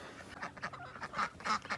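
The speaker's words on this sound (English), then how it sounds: "let me show you these ducks." Growing young ducks in a garden give a run of nasal quacks and honking calls, close and moderately loud, coming in quick irregular bursts.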